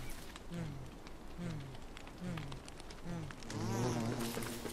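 A bee buzzes in the video game Don't Starve, a string of short rising-and-falling drones repeating roughly once a second over a soft background hiss, the last one louder and longer.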